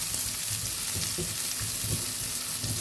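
Onion sizzles in a pan of garlic frying in oil for a squid dish, a steady close crackling hiss with soft stirring scrapes running throughout and no voices.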